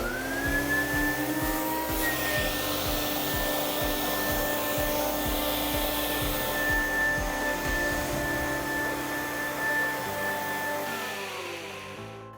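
A continuous loud blower roar from an air glide appliance mover floats and shifts a heavy appliance, steady and close with a whining tone and low rumble throughout, easing off near the end.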